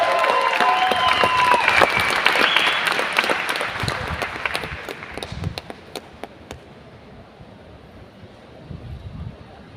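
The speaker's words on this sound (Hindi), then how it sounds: "एक जोरदार तालियां होनी चाहिए उनके लिए" Applause from a meeting audience for a mentor, loud dense clapping for about five seconds that thins into scattered claps and fades to quiet room noise.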